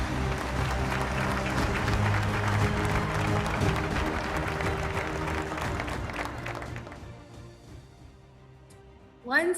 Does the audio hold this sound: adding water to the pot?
no